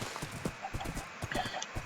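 Horse hooves clip-clop in Minecraft, a quick, close run of rhythmic clopping steps that repeats steadily over two seconds.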